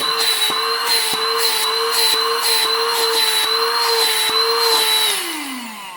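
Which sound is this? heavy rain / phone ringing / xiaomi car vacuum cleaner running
xiaomi car vacuum cleaner running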